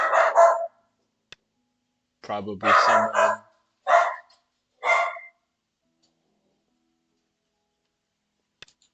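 A dog barks several times indoors in short bursts, with a brief spoken word among the barks and quiet gaps between them.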